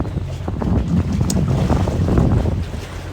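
A sailboat motors slowly under engine while anchoring at Andratx, Mallorca, a steady low engine rumble mixed with heavy wind buffeting and water washing against the hull, with no voices.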